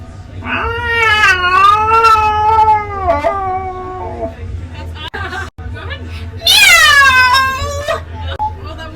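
A person at a fair imitates a cat meowing, a long wavering vocal meow followed by a higher, rising second meow after a short pause, loud and close, with crowd murmur in the background.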